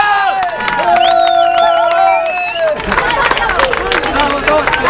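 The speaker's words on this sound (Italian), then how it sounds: "di accogliere con un grande applauso il generale Trozzi" An air show crowd claps and cheers to welcome a general, following a held, chiming tone, with the applause swelling loud and dense midway and continuing under voices and crowd babble.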